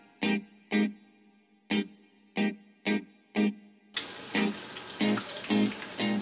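Bacon sizzles in a pan as the strips are flipped. A string of sharp, separate clatters leads into a loud, steady broadband hiss and spatter that keeps going to the end.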